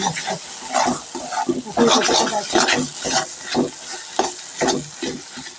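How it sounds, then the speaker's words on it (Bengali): Taro fries in a pan with onion, garlic and chilli, sizzling steadily while repeated stirring strokes scrape through it, close and loud. "আমার পেঁয়াজ রসুন আর লঙ্কাটা যখন ভাজা ভাজা হয়ে গেছে তার মধ্যে আমি নুন আর হলুদ দিয়ে আরেকটু ভাজা ভাজা করে নিই"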